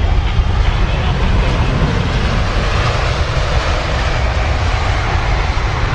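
An airliner's jet engines, including a GE90, roar at London Heathrow in a steady, loud broadband rush that holds for several seconds with no break.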